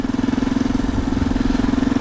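Yamaha Raptor 350 quad's carbureted engine running close up as the choke is eased back, a loud, steady, rapid thumping putter with slightly rising revs.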